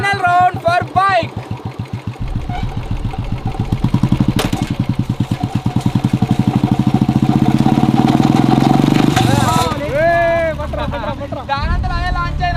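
A motorcycle engine revs hard at a monster tyre launcher, a loud pulsing roar that climbs steadily for several seconds before dropping back, with people talking at the start and end.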